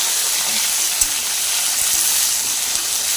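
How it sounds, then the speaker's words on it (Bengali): Steady, loud sizzling of potatoes frying in hot oil, a constant crackling hiss with no voices. "আলুগুলো ভাজছি"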